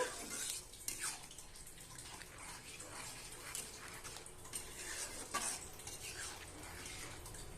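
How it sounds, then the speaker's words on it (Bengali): Green chillies being stirred into a simmering lentil tarka, a spoon scraping and clinking against the pot in soft, irregular strokes with faint wet bubbling, fairly quiet and close, no voices. "আর কাঁচা লঙ্কা দিয়ে দেবো 4টা, দিয়ে একটু ভালো করে নেড়ে নেব।"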